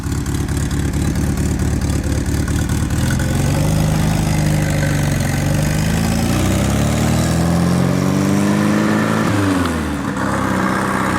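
Car engine running steadily after repair, then revving up with rising pitch before dropping back, loud and close with a continuous mechanical drone and no talk.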